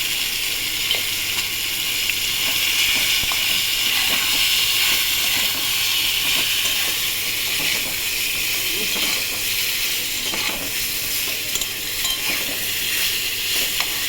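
Salted eggplant frying in a pan, cooked with hilsa fish, is stirred, giving a dense, steady hiss and sizzle broken by light scraping clicks throughout.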